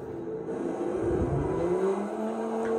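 A car drifting around a roundabout in Forza Horizon 5, its engine droning steadily with rising pitch sweeps and a faint tire hiss, loud and continuous throughout.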